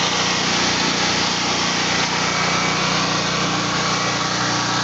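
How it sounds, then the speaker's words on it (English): A small 3500 generator engine fitted with a new carburetor runs at a steady, even high-pitched drone, close and continuous with no break. "That's quiet for a little generator."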